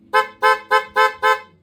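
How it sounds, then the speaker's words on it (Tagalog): Five loud, harmonically rich blasts from an aftermarket motorcycle horn on a dual-horn setup, sounded in quick succession at a steady rhythm, each short and close with brief silences between. "ng loud horn"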